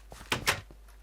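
Wooden door in the Minecraft video game swinging open, a pair of quick close creaky thuds, clear and near over faint background hiss.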